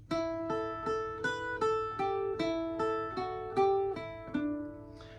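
An Irish bouzouki plays the first line of the reel Cliffs of Moher, about a dozen crisp plucked notes in an even triplet pulse, close and clear with ringing strings and no talking.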